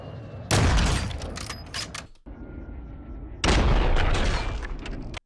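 Gunfire in the video game Warzone 2 comes in two loud bursts, each a sharp crack followed by a decaying rumble, separated by a short lull in the game sound.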